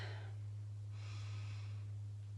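A person demonstrates shallow chest breathing during an ab workout: two quick, airy inhalations close to the microphone, over a steady low electrical hum.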